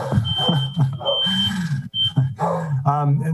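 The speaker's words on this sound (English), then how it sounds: "pardon the fire alarm" A fire alarm sounds during a city government committee meeting, a steady electronic tone heard in short bursts beneath someone speaking over it.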